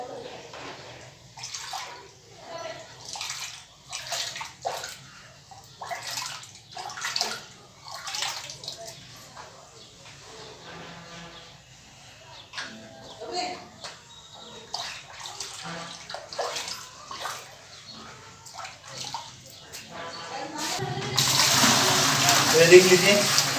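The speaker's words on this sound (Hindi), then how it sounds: "और अभी मैं डालूंगा इसमें लिक्विड ब्लू" Liquid blue and acetic acid go into a washing tub of stained clothes, with splashy water movements heard under ongoing talk before a loud steady gush of water pours in at the end.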